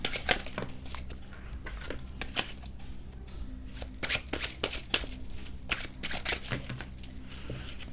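Tarot cards are shuffled by hand, close up, in a run of crisp riffling and flicking bursts that repeat irregularly over a soft background hum, with no talk.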